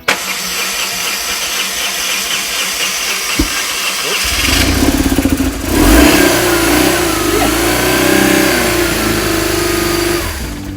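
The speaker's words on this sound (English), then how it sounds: "it might take quite a lot of cranking before it runs, if it does run" A dead BMW R850R motorcycle engine cranks with a rough starter chatter for several seconds, then catches and runs with a loud, steady idle that rises and settles close by.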